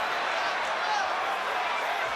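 Boxing arena crowd during a Shakur Stevenson versus Robson Conceicao fight, a dense, steady roar of many voices reacting to an apparent knockdown, loud and continuous throughout.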